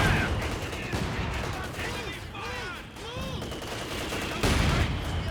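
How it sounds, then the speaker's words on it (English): Mortar impacts and rapid gunfire in the World War II strategy game Company of Heroes 2: continuous crackling battle noise with sharp bursts, whistling incoming shells and a heavy blast near the end, with a voice talking underneath. "Oh, excellent mortar hits."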